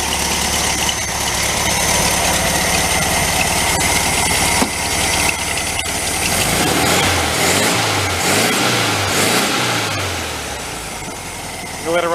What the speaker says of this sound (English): Give her a couple of revs of the throttle, listen to it real quick, and then we'll shut it down.